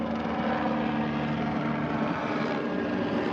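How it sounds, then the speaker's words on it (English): An LAPD police helicopter flies overhead, its rotor and engine producing a steady, loud droning roar that holds constant throughout with no talking. "LAPD helicopter."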